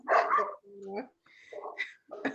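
A puppy gives several short, close barks and yips, mixed in with a person talking nearby.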